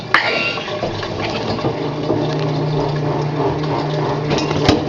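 Water runs steadily into a kitchen sink with a continuous splashing rush, accompanied by a faint mechanical hum, with brief clicks at the start and end.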